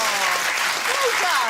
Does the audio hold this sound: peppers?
no